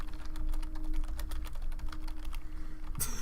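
Rapid keystrokes on a computer keyboard clatter in an irregular run of close, crisp taps with no talk over them, ending with a brief louder knock.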